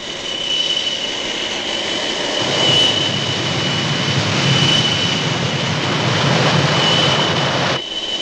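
An anime aircraft's jet engine throttles up after launch, giving a loud, sustained roar with a steady high whine that swells in waves and then cuts off abruptly near the end.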